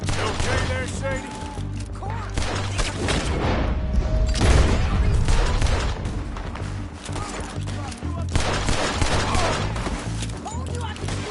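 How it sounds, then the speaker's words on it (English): Rapid gunfire rattles through a chaotic shootout in Red Dead Redemption 2, bursts of shots and booms piling up continuously at close range while voices shout over the fighting. "Told you I could shoot a gun"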